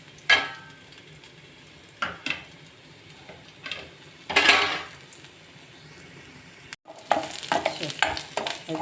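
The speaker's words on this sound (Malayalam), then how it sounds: "ഒരു വറ്റൽമുളക് ഇട്ട് കൊടുക്കാം കേട്ടോ." A dried red chili fried with golden-brown onion in a pan, with a soft sizzle underneath, intermittent scraping stirs and utensil clinks that grow busier toward the end.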